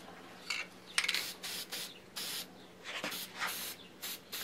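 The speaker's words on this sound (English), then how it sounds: "Let me just kind of spray in the end of my bench here" Ink sprays from an aerosol can onto the end of a workbench partly covered with paper, coming as a series of soft hissing bursts of varying length, close and fairly quiet, with no talking.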